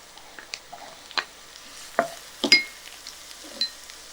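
Chopped carrot, cucumber and capsicum stirred in a nonstick pan over low flame, giving a soft background sizzle broken by a few sharp scraping and clinking stir strokes at irregular intervals.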